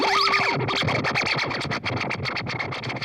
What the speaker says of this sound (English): I'm going to put in a little distortion just to make it sound as weird as humanly possible.